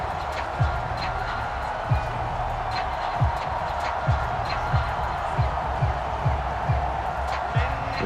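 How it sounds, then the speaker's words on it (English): A steady roar of a stadium crowd at an NFL game between the Los Angeles Chargers and New England Patriots, loud and continuous, with sharp thumps recurring every half second or so under it. "This crowd turning up the decibel level."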